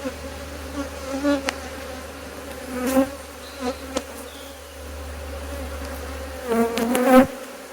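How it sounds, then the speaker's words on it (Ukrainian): A steady, dense buzz of many honeybees around a hive surrounds the listener, with louder individual bees droning past close by now and then. "Бачите, бджола постійно вилазить на гору."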